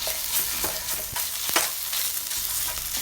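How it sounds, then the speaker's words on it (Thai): Red curry paste stir-fried with garlic in vegetable oil in a pan over low heat, a steady crackling sizzle with scraping stirring strokes, close and continuous with no talking. "หลังจากนั้นผัดพริกแกงแดงให้หอมเลยนะคะ"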